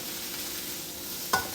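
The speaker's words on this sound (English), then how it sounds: "And then we put our vegetables. Then we mix it." Vegetables stirred in a hot pan with garlic, a steady sizzle of frying throughout and one brief scrape of the utensil near the end, close and fairly quiet.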